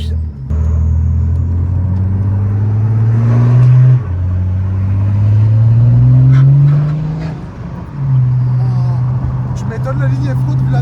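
BMW E90 335d biturbo diesel, stage 2 tuned, revving and pulling hard, its low engine drone climbing in repeated surges with brief dips between, heard from inside with voices talking over it.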